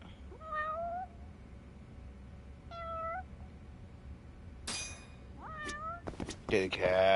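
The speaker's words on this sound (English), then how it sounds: "Kitty cats." A cat gives several short meows spaced a couple of seconds apart, fairly close. Bursts of other noise and a voice come in toward the end.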